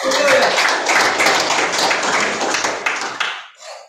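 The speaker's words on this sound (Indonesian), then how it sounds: "Yang paham, kasih tepuk tangan yang meriah." Lively clapping from a church congregation at a prison service on Nusakambangan, loud and close, with a few voices mixed in before it fades out abruptly at the end.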